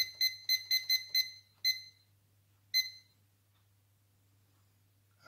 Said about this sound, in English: Start my timer here for 15 minutes.